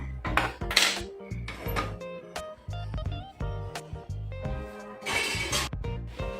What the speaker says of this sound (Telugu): ఇప్పుడు ముందు స్టవ్ వెలిగించి ప్యాన్ పెట్టేసుకుందాం.